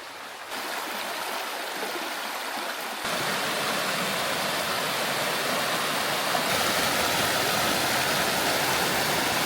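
Brook water flows steadily at the Mackintosh Brook trailhead on Canada's coast, a close, constant rushing wash that grows louder partway through, with no voices over it.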